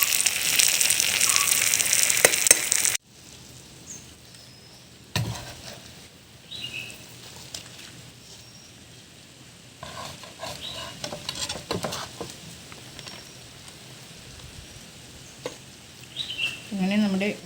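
Ayala mackerel frying in oil in a pan over a wood-fired stove, Kerala style, a loud hiss of sizzling at first that drops to quieter crackling and spatter with occasional clatters.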